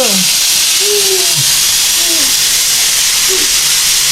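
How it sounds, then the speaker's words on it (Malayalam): Pressure cooker whistling on the stove while chicken mandi cooks, a loud continuous steam hiss filling the whole stretch, close by with no talk. "വിസിൽ വന്നിരിക്കുകയാണ് വിസിൽ വന്നു"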